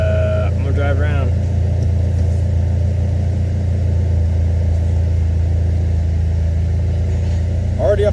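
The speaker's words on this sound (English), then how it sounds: "I'm going to drive around." A Dodge SRT-4 engine with solid motor mounts hums steadily at low pitch while the car is driven, with faint voice-like sounds briefly over the rumble.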